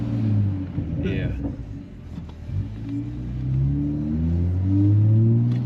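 Toyota Supra fitted with an HKS exhaust pulls hard under acceleration, a deep rising engine drone that climbs steadily over several seconds, with people talking over it inside the car.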